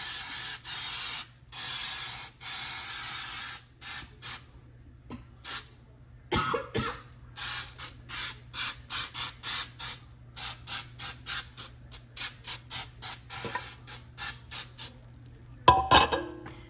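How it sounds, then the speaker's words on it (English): Baker's Joy baking spray hissing into a ridged pound cake pan in a home kitchen, a long burst followed by many short rhythmic sprays with brief pauses between them, close and fairly loud, with a cough near the end. "You want to make sure you spray every inch of it because it does have these ridges in it."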